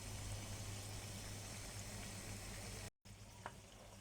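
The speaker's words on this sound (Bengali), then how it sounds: "নাস্তাগুলো এরকম কালার করে আমি ভেজে নিচ্ছি" Crispy snacks deep-fry in oil over medium heat with a quiet, steady bubbling sizzle, broken by a brief drop to near silence and a small clink.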